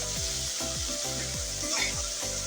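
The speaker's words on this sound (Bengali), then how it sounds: "আমি আরও কিছুক্ষণ মশলাটা কষিয়ে নেব।" Spice paste fries hard in hot oil with a dense, continuous sizzle. Rhythmic stirring strokes sweep through the pan about every half second, close and fairly loud, with no talking.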